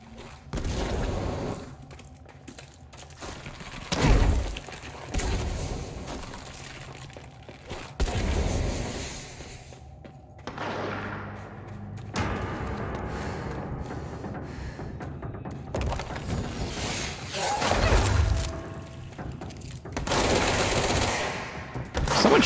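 Gunfire from the video game Control rattles in repeated bursts of rapid automatic shots over about twenty seconds, loud and close, separated by brief pauses, with no talk over it.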